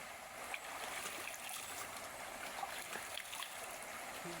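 A river stream on a farm flows steadily, giving a faint, continuous rushing and trickling wash of water with no talk over it.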